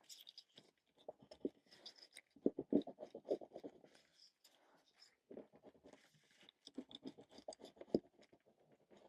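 A black China pencil scratches around the edge of a card collage to draw a border, giving close, dry strokes in two clusters of bursts with a short pause between them.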